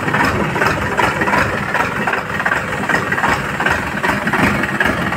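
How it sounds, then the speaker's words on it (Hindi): A Mahindra 585 tractor engine idles steadily at close range, a loud, even diesel rumble that holds throughout with no pauses. "महिंद्रा 585 ट्रैक्टर का इंजन देखो।"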